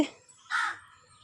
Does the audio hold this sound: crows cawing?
yes